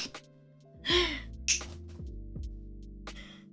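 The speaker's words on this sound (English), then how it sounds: "A loud gasp escaped Cliff." A loud gasp from a character in the Our Life: Beginnings & Always video game, a sharp breathy intake over a steady music bed, followed by a few fainter breaths and sighs.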